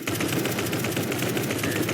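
Steady, rapid automatic fire from an assault rifle in the Roblox game Anomic, an unbroken rattling burst that continues loudly throughout with no pauses and no voices.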